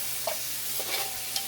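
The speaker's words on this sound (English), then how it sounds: "stir that all around." A spoon stirring pork green chili with garlic in a pot, making a few soft scraping strokes over a faint, steady sizzle, quiet and close with no talking.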